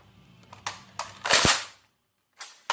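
A modified Nerf gun fires several times, each shot a sharp, close pop spaced irregularly across the moment, with a brief gap of near silence before the last two shots.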